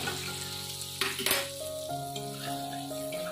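Ground fennel mixture poured into a hot pan sets off a loud, steady sizzle and frying hiss, with a brief clatter of utensils against the pan near the middle.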